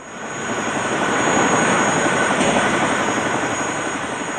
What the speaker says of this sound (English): the Vietnamese helicopter drops its load of rice and flies off empty